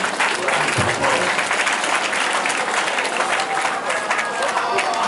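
Convocation audience at Godfrey Okoye University bursting into sustained, dense applause that fills the hall at steady loudness from start to finish.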